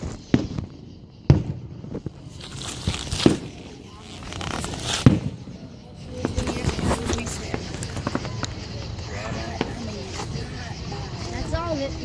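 Fireworks exploding outdoors: several sharp, loud bangs pop at irregular intervals early on, followed by denser crackling and rumbling with distant bursts, while people talk nearby.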